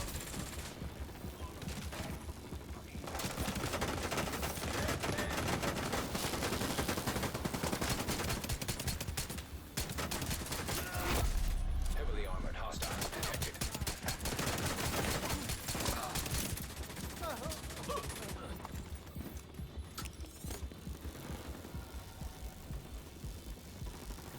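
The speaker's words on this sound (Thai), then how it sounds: "โอเค ยิงเข้ามา ติดโล่มันแหละ" In the video game The Division 2, sustained bursts of rapid gunfire hit a shield almost without pause, dense metallic impacts layered over a low engine hum, with occasional speech beneath.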